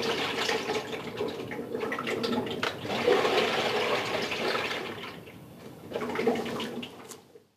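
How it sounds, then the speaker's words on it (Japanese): Water sloshes inside the balance ring of a Hitachi BD-S7400 drum washing machine as the drum is moved. It gives a rushing, swirling liquid sound in several surges that fades out at the end. "この音は脱水時のバランスを取るためにバランスリング内に入れてある水の音です。"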